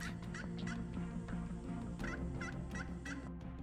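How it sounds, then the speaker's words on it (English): Wild turkeys gobble repeatedly, a rapid series of rattling calls from several birds overlapping at close to moderate distance. "Wild turkeys roam the streets"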